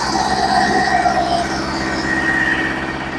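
A PAICHE wood chipper with a 40-horsepower drive runs steadily while chewing through sticks, giving a loud, close, continuous mechanical roar with a shifting whine and no talk.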